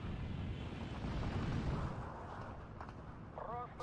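A 76mm gun fires in the World War II strategy game Steel Division 2, a dense rumbling boom and rolling battle noise filling the mix, with a short voice near the end.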